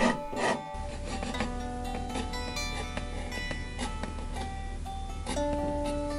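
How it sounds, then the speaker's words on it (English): A rasp files the edges of a glued wooden harp body, giving steady scraping strokes close up that rub on continuously without pause. "I use the rasp to get perfect angles all the way around"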